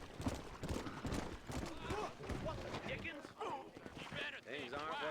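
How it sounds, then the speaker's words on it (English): Horse hooves clip-clop in Red Dead Redemption in the town of Armadillo, a steady rhythmic clatter mixed with game sounds and voices talking over it throughout. "Let us hitch our horse."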